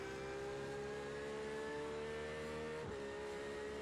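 A race car engine in the iRacing simulator holds a steady, loud, buzzing drone with tonal harmonics, then briefly dips in pitch as the throttle shifts before settling again.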